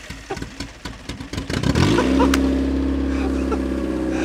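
An English car fitted with a Japanese engine starting for the first time in five years: rapid clattering starter cranking, then the engine catches and settles into a loud, steady, rumbling idle close by.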